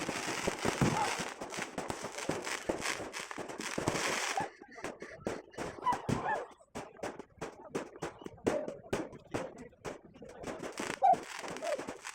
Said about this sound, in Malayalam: ഒരു വരവൊക്കെ ചെന്ന് കഴിഞ്ഞിട്ടുള്ള ഒരു വെടിക്കെട്ടുണ്ടായിരുന്നു